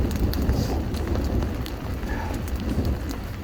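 Steady, dense rain patter during a hailstorm on a mountain pass of the Uinta Highline Trail, with a constant broadband wash, close and fairly loud, no voices.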